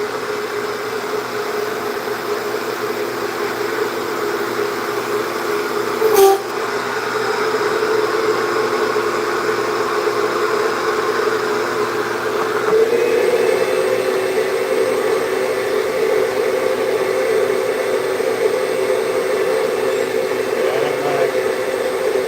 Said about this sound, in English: Shop vac's probably getting full.